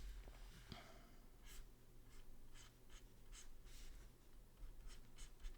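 Pencil strokes scratch across paper while a face is sketched, the lower part of the eyes being drawn in a series of short, close, quiet strokes with light breathing in between.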